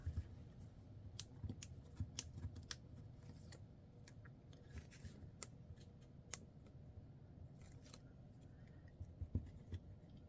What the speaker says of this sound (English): now I think we're ready to peel the backing off